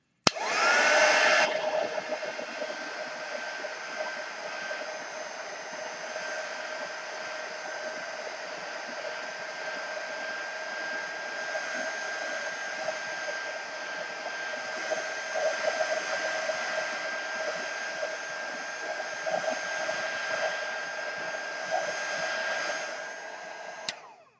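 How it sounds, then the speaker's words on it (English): A heat gun runs continuously for about 24 seconds while cross stitch is being mounted, giving a steady, close, hissing whine with a fixed tone that starts abruptly and cuts off at the end. "Back to the heat gun, excuse the noise."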